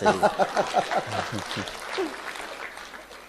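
Audience applause at a Hindi comedy poetry show, a thin patter of clapping mixed with voices and chuckles that thins out toward the end.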